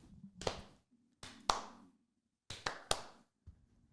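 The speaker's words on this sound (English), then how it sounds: "Slow clap." Several slow, sharp hand claps come in uneven pairs with gaps between them, close and crisp against a quiet room with faint background murmur.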